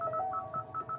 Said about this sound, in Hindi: ये जो बीप हो रही है ना इसकी वॉल्यूम आपको कितनी चाहिए।